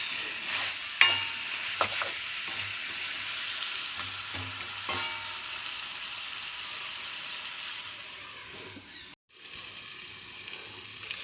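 Chicken stir-frying in a cast iron pan gives a continuous sizzle with occasional scraping and stirring knocks, steady and close, briefly cutting out near the end.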